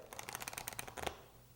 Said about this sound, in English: Now just give it a riffle shuffle, making sure you start shuffling with the right hand and end shuffling with the left hand.